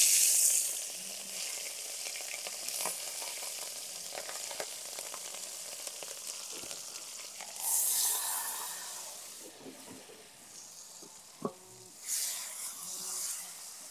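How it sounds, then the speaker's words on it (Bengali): Ground spices frying in the oil left over from frying fish for a fish curry with potato and eggplant: a steady, close sizzle with scraping stirs and a few louder bursts of crackling along the way. "এবার মাছ ভাজা তেলে মশলাগুলো দিয়ে সুন্দর করে কষে নেব"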